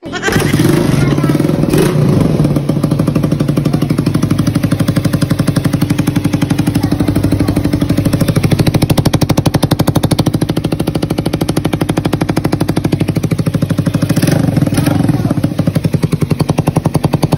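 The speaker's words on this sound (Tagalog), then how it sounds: "At kung inyong nadudungog ang tingog sa ating motor, syempre may singaw talaga." A motorcycle engine with a leaking exhaust idles close up, loud and rough, its rapid rattling pulses steady for the whole stretch as the revs rise and fall slightly.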